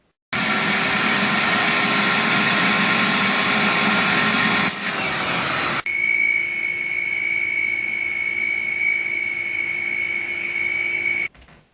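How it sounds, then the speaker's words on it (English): A shop vacuum runs with a steady, loud droning whine during mini split air conditioner maintenance. Its tone shifts partway through, then it keeps going until it cuts off at the end. "if you have your own shop vacuum cleaner, you can do this yourself"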